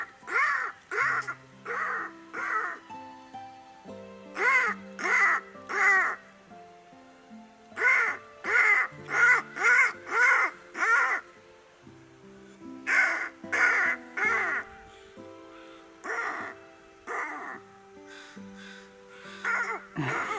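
Crows caw in a residential neighborhood, repeated bursts of harsh calls in groups of three to five, clear and fairly close. Low voice-like sounds between the bursts suggest a person may be imitating the calls.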